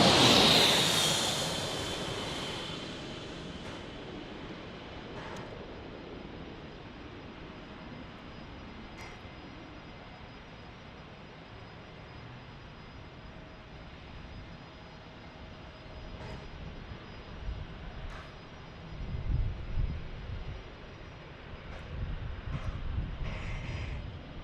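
An airplane passes near San Diego airport: a jet roar fades early on, a long quiet stretch of distant engine rumble follows, then the low rumble swells again toward the end.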